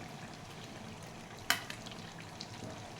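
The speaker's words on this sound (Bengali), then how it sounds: "এরপর এখন আলু দিয়ে দিচ্ছি।" Potatoes go into chicken curry with yogurt sizzling in a pan, giving a steady soft frying hiss with one sharp clatter midway and faint stirring sounds after.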